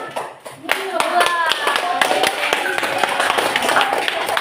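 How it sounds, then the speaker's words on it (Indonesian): A classroom of students applauds a student group, with dense close clapping that carries on steadily for several seconds while voices talk over it. "Oke, kasih aplaus untuk kelompok."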